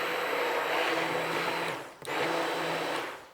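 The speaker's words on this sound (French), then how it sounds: "Nous allons dans un premier temps mixer les tomates." A kitchen blender whirs steadily as it purees tomatoes for gazpacho, a bright continuous motor roar that stops briefly at about two seconds and then starts again, close and alone with no talking.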